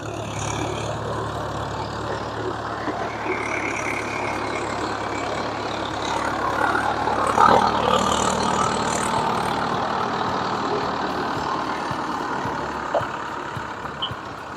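A tractor engine works a muddy paddy field on a Sahyadri hill farm, holding a steady, fairly loud drone for the whole stretch with a slight swell midway and no voices.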